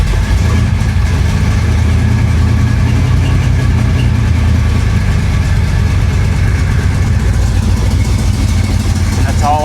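A flood-damaged 1966 Chevrolet Impala engine runs loudly and continuously at a rough idle, with a belt squeal layered over the steady mechanical drone throughout.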